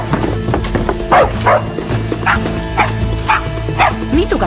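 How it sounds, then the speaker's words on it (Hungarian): Several dogs bark in repeated sharp bursts at mid distance, with occasional yips breaking in among them, over a busy rural background. "Mit ugathatnak?"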